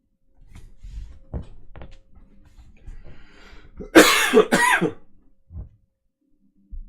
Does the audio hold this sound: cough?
yes